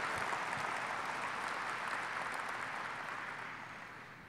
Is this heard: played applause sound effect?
yes